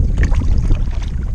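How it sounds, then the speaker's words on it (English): Canoe loaded with gear being paddled across a lake, soft water swishes and wind buffeting the microphone, close and brief with no talking. "We've just gotten all our gear onto our canoe and are now paddling on Fairy Lake."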